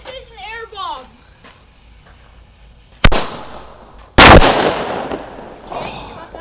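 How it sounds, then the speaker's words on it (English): An air bomb firework goes off outdoors with a whistling launch followed by two sharp, loud bangs, the second louder and rolling into a decaying crackle, with people talking quietly beforehand. "this is an air bomb"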